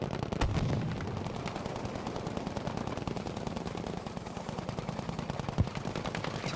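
Rapid gunfire from the shooter game Battlefield V rattles nonstop in dense automatic bursts with occasional heavier booms, loud and close, steady across the whole stretch.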